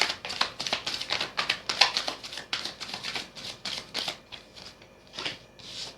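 Tarot cards being shuffled and drawn, a rapid run of crisp riffling and flicking bursts close up, with quick card snaps and slaps at an uneven rhythm, slowing toward the end.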